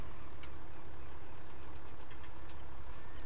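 A tractor engine idles in Farming Simulator 17, a steady low rumble holding at an even, moderately quiet level with no talk over it.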